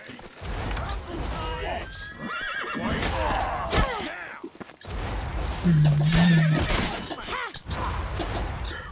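A horse whinnies loudly amid a busy, layered soundscape in The Witcher 3: Wild Hunt, with mechanical clatter and hoofbeats, with a brief shout cutting through.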